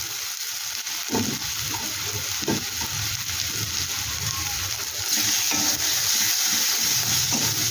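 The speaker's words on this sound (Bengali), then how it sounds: "এটা নিয়ে আমি দিয়ে দিচ্ছি আদা আর রসুন বাটা" Ginger-garlic paste frying with browned onions in a pan, a steady loud sizzle close up, with occasional spoon scrapes from stirring and a slight rise in intensity partway through, no talking.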